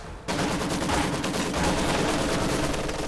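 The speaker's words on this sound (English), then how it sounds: "He's another machine gun trying to move up." Sustained machine gun fire in a World War II real-time strategy battle in Company of Heroes 2, a dense, loud burst of rapid overlapping shots and crackling gunfire that starts abruptly and rolls on without pause.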